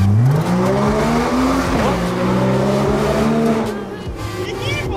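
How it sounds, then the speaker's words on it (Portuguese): Engine of a blue Porsche sports car driven through city streets, a loud, close rising and falling growl as it revs through the gears, with brief voices underneath. "Nossa, mal som desse carro, incrível"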